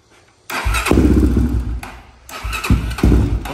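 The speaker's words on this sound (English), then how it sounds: "I'm gonna turn the idle up a hair, Doug." A Honda 400EX ATV engine, rebuilt with a 440cc big bore kit after the motor blew, cranks and fires in two close, loud bursts of revving that catch and sputter within a few seconds.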